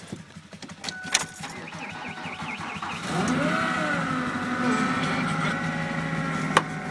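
A 2011 Polaris Sportsman 500 quad idles after a cold start, its steady engine drone rising from about three seconds in and holding close and loud after earlier clicks and rattles.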